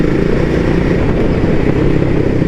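A Triumph Speed 400 motorcycle rides in fourth gear at about 30 mph, its engine droning in a steady, loud, close rumble with a low throbbing texture and no break or change in pitch.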